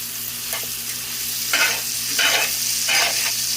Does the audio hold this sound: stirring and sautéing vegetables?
yes